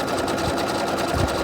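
An embroidery machine stitching the outline of a heart quilt block, its needle running in a fast, steady mechanical patter close by, with no talking.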